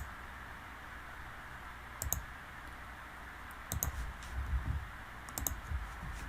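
A computer mouse clicks in short bursts while someone works in Autodesk Fusion 360 modelling a piston. There are three quiet groups of crisp clicks, including a few double clicks, over a steady background hiss, with no speech.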